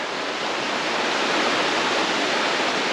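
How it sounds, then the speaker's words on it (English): Clear river water rushes and flows in a steady, dense broadband roar along a hiking trail, continuous and fairly close with no voices over it. "Oh wow, this river is amazing."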